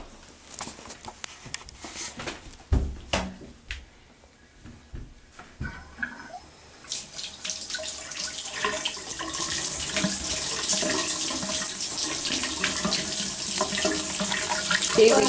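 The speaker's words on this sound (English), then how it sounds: "Okay, we turned on the water" A household shower is turned on and water runs steadily, building from scattered splashes and clunks into a continuous hissing spray that fills the space, with no talking.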